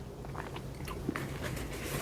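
A crispy cheese and steak egg roll being bitten into, a few close, faint crunchy bites and chewing sounds in quick succession, with no talking.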